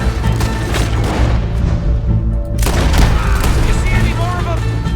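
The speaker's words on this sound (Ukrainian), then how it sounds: "Отак, снайпери стріляють." Repeated sniper gunshots crack over a continuous loud background of combat noise in Red Dead Redemption 2 during a bank robbery in Valentine, with a voice speaking at times amid the firing.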